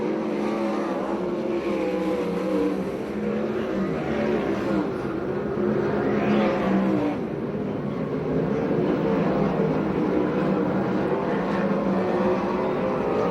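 Sprint cars racing on the final lap at a dirt oval in Perris, California, their engines making a steady, dense roar that holds throughout, rising slightly in the middle as cars pass nearer.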